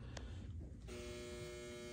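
A steady, close mechanical hum with a faint buzzing tone from a running clothes dryer, with no voices.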